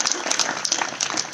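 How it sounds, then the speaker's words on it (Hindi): Scattered applause from an audience at a Hindi comedy poetry show, fairly faint and brief, a thin patter of claps. "एक बार तालियां बजाइए"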